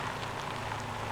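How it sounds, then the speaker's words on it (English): Steady rain in the driving game Motor Town, a dense, even hiss of drops on surfaces with no pauses, heard alone at a moderate, constant level. "That's why I haven't disabled this rain, because it brings a challenge to the game."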